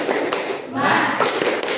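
A classroom group at a vocational high school claps out a rhythmic spirit clap in quick bursts of hand claps, close and fairly loud, with voices mixed in.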